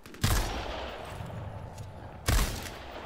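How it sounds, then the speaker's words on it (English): Two bursts of shooter video game gunfire about two seconds apart, each a sharp broadband volley with a lingering tail over a steady game background. "You're missing shots, Nivi."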